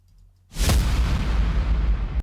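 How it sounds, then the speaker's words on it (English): A cinematic whoosh-and-hit impact sample: one loud, sudden boom with deep low end and a bright crackling top. It sustains as a dense roar for about a second and a half, then cuts off abruptly. "And then we have this whoosh hit"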